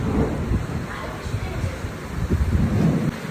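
Loud, dense downpour of monsoon rain outdoors with deep thunder rumbling underneath, steady throughout with slight swells near the end.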